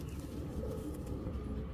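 A young male white tiger racing pigeon coos softly and low, faint against a quiet steady background.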